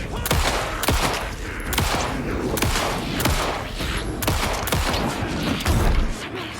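Repeated loud gunshots ring out in the Alan Wake 2 video game, close bursts fired every second or so over a rumbling backdrop.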